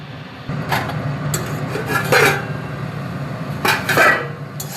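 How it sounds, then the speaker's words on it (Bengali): Red amaranth greens dropped into an empty wok on a stove and then covered with a lid, giving a few sharp metallic clanks and clatters of cookware spread over a steady low background hum. "খালি কড়াইতে আমি এই লাল শাকগুলো দিয়ে দেবো, দিয়ে আমি ঢাকা দিয়ে দেবো।"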